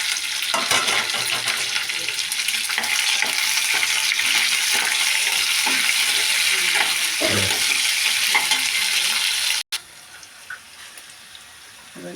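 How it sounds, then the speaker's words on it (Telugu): Curry leaves and chopped green chillies crackle and sizzle loudly in hot oil as a tempering for gongura curry, a steady dense hiss with stirring scrapes that cuts off near the end, leaving a quieter simmer. "తాలింపు ఎగిపోయిందండి"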